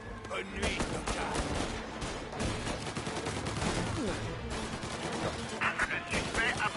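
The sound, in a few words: gunfire in video game Mafia: Definitive Edition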